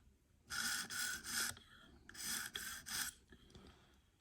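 A knife blade, still slightly damaged, rasps and grabs across a sharpening stone in two bursts of back-and-forth strokes, close and fairly quiet, with brief pauses between.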